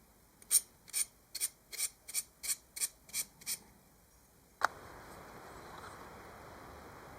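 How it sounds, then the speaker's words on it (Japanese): Nine short rhythmic rasping strokes of 400-grit then 1000-grit sandpaper on a two-stroke Yamaha YB-1 moped piston, close and crisp, followed by a sharp click and then a soft steady hiss. "なんとなく400番で削って1000番で仕上げっていう形を取りました"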